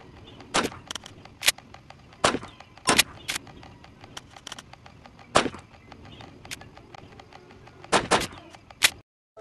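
Gunshots in the video game Granny Chapter 2 crack out in sharp single bursts, about eight spaced irregularly over a low background hum.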